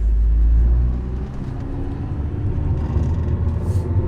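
A 2007 Mazda 6i with a conventional automatic transmission pulls away on a test drive, a loud low engine rumble swelling at the start, then a steady hum of the car under way.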